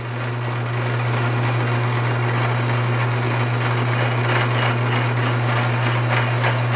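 Steady hum of a metal lathe running in a home workshop, set up to cut a homemade tube notcher jig, with a constant low drone and faint mechanical clatter throughout, no voices.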